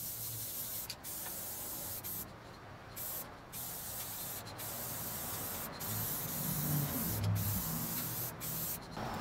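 A spray can lays down crackle-effect paint in a near-continuous close hiss, broken by a few brief pauses between passes, with no talk.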